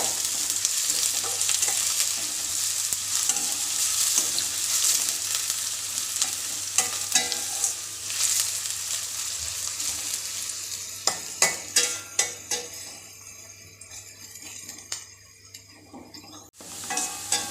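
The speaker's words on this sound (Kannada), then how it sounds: "ನಾನಿಲ್ಲಿ ಈರುಳ್ಳಿನ ಪೂರ್ತಿ ಕೆಂಪುಗೆ ಬ್ರೌನ್ ಕಲರ್ ಬರೋವರೆಗೂ ಸಹ ಎಣ್ಣೆಯಲ್ಲಿ ಫ್ರೈ ಮಾಡ್ಕೊಳ್ತೀನಿ" Onions frying in oil until browned on medium flame for pulao, with a loud, continuous sizzle. Later come a run of spatula stirs and scrapes against the pan, close up, before the sizzle briefly drops out near the end, with no talking.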